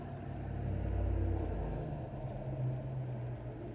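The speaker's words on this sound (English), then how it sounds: "I know y'all can't hear me over that big truck" A big truck passing by a park, a deep engine rumble swelling to a peak in the first seconds then easing into a lingering low drone as it moves away.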